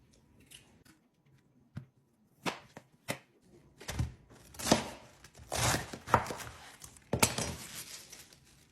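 A knife chops potatoes and vegetables on a cutting board, the sparse single cuts becoming a denser series of crisp thunks, close and clear.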